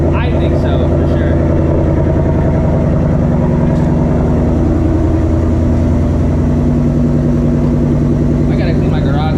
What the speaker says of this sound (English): the active exhaust, stock active exhaust, is one of the best sounding exhausts for a Coyote Mustang